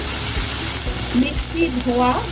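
Koi fish curry sizzling in oil in a pan, a steady close frying hiss with bubbling pops, while a person talks over it.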